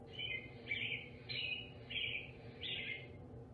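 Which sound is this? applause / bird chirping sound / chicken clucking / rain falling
bird chirping sound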